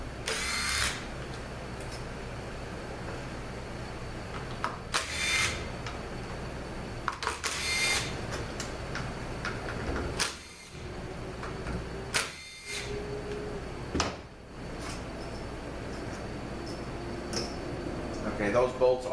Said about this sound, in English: first we're going to take the 6 bolts out that hold the Megatronic unit in place